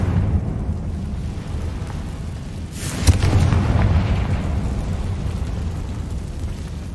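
A Confringo spell explosion in the video game Hogwarts Legacy lands as a sudden loud boom with a sharp crack over a constant low rumbling game soundscape, the blast swelling and fading back into the rumble.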